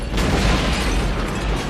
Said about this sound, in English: that pays off later when the auto shop explodes